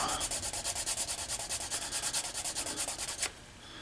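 A leather wallet edge is rubbed briskly with a piece of canvas, producing a rapid rhythmic series of about twenty-five close raspy strokes that stop abruptly near the end.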